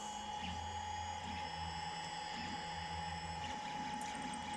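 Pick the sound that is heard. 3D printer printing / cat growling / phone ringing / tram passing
3D printer printing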